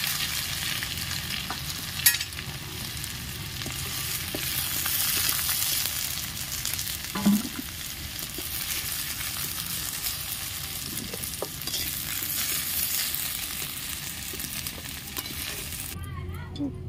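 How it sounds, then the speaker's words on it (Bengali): Potatoes frying in oil in a pan for a vegetarian papad curry, a steady close sizzle with occasional stirring scrapes, running continuously and loud until it cuts off near the end. "আলুটা লাল লাল করে ভাজা হয়ে গেছে"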